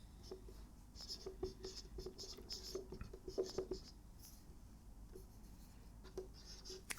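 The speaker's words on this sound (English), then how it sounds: "Let's write it like that." Pen or chalk scratches out handwriting during a math lecture, in soft intermittent strokes and taps close to a quiet background.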